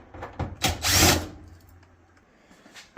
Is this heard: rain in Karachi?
no